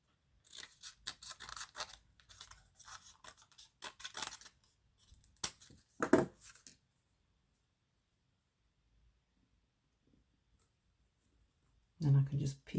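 Scissors snip strips from a sheet of white card stock, with crisp, quiet cutting clicks and rustles close up, then a long pause and a brief louder handling noise at the end.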